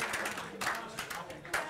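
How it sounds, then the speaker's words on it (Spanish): An audience at a dental presentation on digital workflow gives scattered, sparse clapping, a few distinct claps standing out over a murmuring room. "Un aplauso para el padre de Elena."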